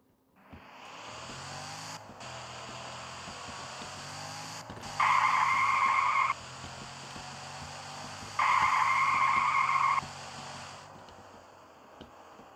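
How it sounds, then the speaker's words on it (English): A car tire skid sound effect used in a game tutorial: two sustained high screeching squeals, each about a second and a half, over a low steady engine-like drone, with no talk. "The audio source I'm using for this is this skid track."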